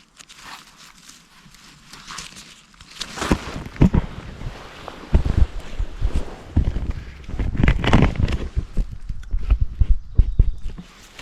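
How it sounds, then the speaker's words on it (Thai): Footsteps of people walking through a Swedish forest during mushroom foraging, with crunchy, irregular steps on the forest floor growing louder after a quiet start, mixed with wind noise on the microphone. "หลอนเลยได้ยินเสียงคนเดิน"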